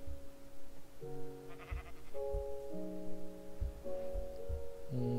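Minecraft sheep bleating in a game world, several short tonal bleats spread across the clip over steady game music, no talk.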